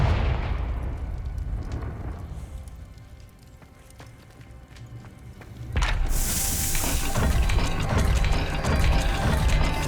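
A Confringo blasting spell explodes in Hogwarts Legacy: a loud rumbling burst starts the clip and fades, then a second, brighter crackling blast hits about halfway through and keeps roaring with debris-like noise to the end.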